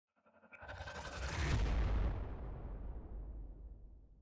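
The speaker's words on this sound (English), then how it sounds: "who doesn't like to start out a battle by lobbing a grenade right into the midst of their enemy?" A frag grenade in Warhammer 40,000: Regicide detonates in a single loud, close boom that swells quickly and then rolls off into a long fading rumble, with no voices over it.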